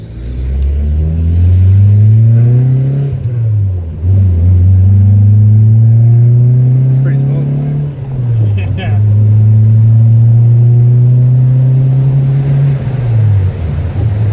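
A 1991-1996 Infiniti G20 on new coilovers pulls out of a driveway, its engine droning loudly up through the gears with clear dips at each shift, close and continuous.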